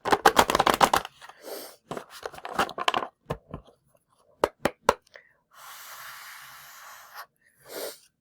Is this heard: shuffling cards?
yes